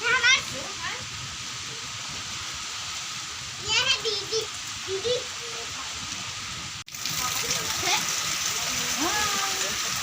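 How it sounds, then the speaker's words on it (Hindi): Heavy rain pours steadily on a stormy evening in Uttarakhand with light wind, a constant hiss throughout while a voice and other speech break in over it. "अब पड़ गई बहुत ही ख़तरनाक वाली बारिश"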